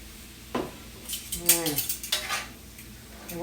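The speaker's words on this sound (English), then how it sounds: "we're just going to saute this all up and just kind of cook it up" Fajita beef with seasoning, cilantro and salt being sautéed, heard as metallic utensil clinks and scrapes against the pan over a faint sizzle, with one brief low murmur.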